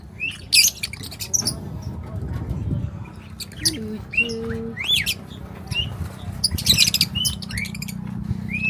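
Small birds chirp and tweet in quick bursts nearby, with a brief voice and background noise in between.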